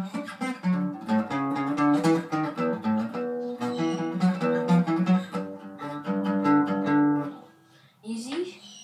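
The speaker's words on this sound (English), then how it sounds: "That's the whole intro, so it should sound like this." Acoustic guitar strumming a repeating pattern of low chords in a steady rhythm, ringing clearly and close, ending with a short pause.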